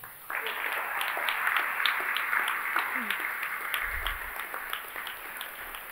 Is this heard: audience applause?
yes